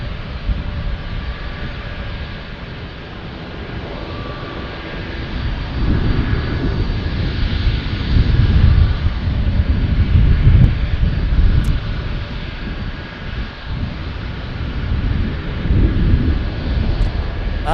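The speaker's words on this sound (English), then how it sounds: "You can hear those old 767 engines purr." The old engines of a DHL Boeing 767 rumble as it taxis toward runway 27, a low, steady roar swelling and easing at moderate distance outdoors, with some wind across the microphone.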